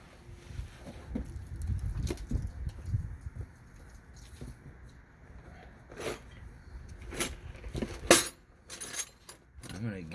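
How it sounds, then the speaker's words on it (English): A wrench works on the sway bar link of a 2002 Dodge Ram 1500 Sport, with scattered metallic clinks and rattles that grow sharper toward the end, after a stretch of quiet muffled handling. "Might have to use a wrench."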